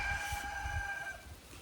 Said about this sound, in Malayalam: ഈ കോഴി എന്ന് ഞാൻ സംസാരിക്കുമ്പോഴും നിലവിളിക്കും